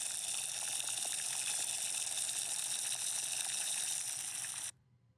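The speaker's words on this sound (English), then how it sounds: "Are you boiling water?" Water in a pot boils with a steady, close, hissing bubble that runs for several seconds and then cuts off abruptly.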